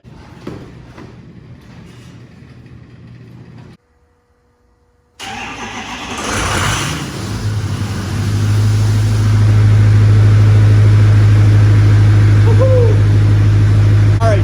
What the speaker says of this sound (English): I'm gonna go ahead and fire it up, let it sit for probably about 10 to 15 minutes at idle